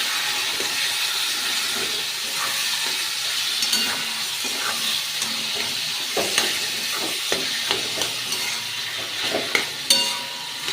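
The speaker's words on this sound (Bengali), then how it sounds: "শাকটাকে আমি নেড়ে ছেড়ে মিশিয়ে নিলাম।" Boiled taro greens are stirred in hot oil in a pan, with steady sizzling and frying hiss and intermittent scraping stir strokes that grow more frequent toward the end.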